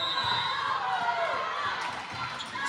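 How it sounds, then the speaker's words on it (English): Capacity crowd roaring steadily through a girls high school basketball game in a packed gym, a dense, continuous wash of voices with shouts rising above it. "A lot of noise from this capacity crowd."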